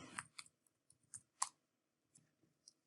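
Sparse, quiet clicks of a computer keyboard being typed on, a handful of separate taps with short irregular pauses, close and alone.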